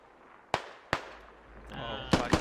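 Sharp reports from a distant .50 cal machine gun in the military shooter Squad, a few isolated bangs with rising ambient noise and a quick double burst near the end.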